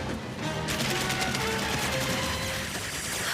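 Gunfire in an animated film: a sustained, loud burst of rapid shots that runs almost unbroken for the whole stretch, with dense crackling reports over a rumbling background.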